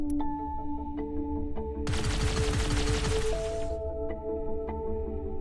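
Zapper weapon in the space shooter Everspace firing continuously, a dense crackling burst lasting about two seconds over a steady droning game soundtrack with periodic tonal blips.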